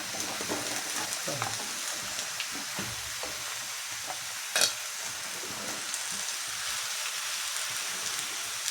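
Beans, cauliflower and potatoes fry for a curry, giving a steady soft sizzle with scattered stirring scrapes and one sharp clink midway.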